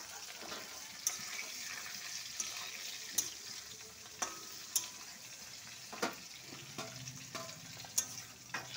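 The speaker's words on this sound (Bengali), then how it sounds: "যেহেতু আমার সবজিটা ভাজা আছে আমি পুরো সবজিটা এই যে" Fried vegetables for a Bengali dudh sukto tipped into a pan and stirred, giving a steady close sizzle broken by sharp clacks of the spoon against the pan.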